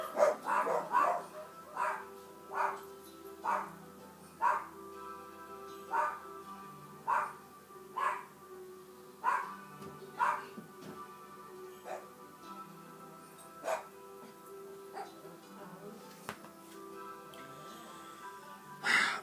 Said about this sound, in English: Again, 4 dogs, 3 of them bark, 1 hides because of the loud noise.